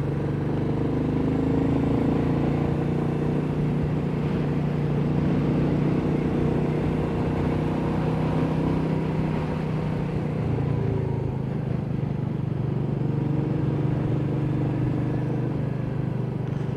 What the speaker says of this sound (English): windy here, so you'll hear some wind in the background, I'm sure.